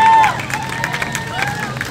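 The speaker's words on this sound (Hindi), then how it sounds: "तालियां बजा दीजिए इस बच्ची के लिए।" A crowd applauds for a girl coming onto a stage at a quiz show, steady mid-distance clapping with some crowd noise throughout.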